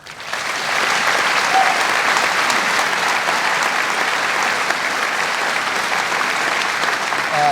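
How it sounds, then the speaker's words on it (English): A crowd at a Marine Military Academy graduation ceremony applauds in a dense, even roar of clapping that builds quickly and holds steady for several seconds, without speech over it. "Please join me in a round of applause."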